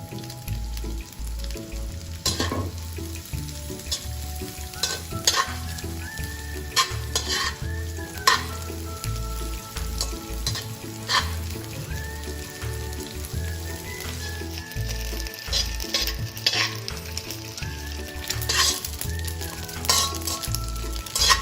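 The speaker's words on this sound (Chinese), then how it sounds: "炒干后的江鱼子倒入一点食用油，在中火油炸至香脆。" Small dried anchovies crackle and sizzle steadily in hot oil over medium heat while being stirred, with scattered sharp pops and scrapes throughout, close and continuous.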